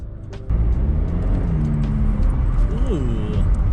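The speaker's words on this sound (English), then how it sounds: "The turbo is a smidge louder." A turbocharged car with a newly installed K&N air filter accelerates hard from about half a second in, a loud, continuous engine roar rising in pitch, with a brief shift partway through.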